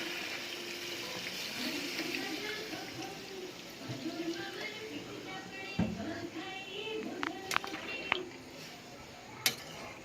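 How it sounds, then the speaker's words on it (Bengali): Water pours into a pot of chicken curry on a home stove, a steady broad rush of liquid with muffled voices in the background and a few sharp clinks near the end. "কষানো হয়ে গেলে দিয়ে দেবো জল।"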